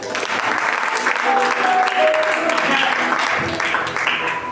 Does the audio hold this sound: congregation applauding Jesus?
yes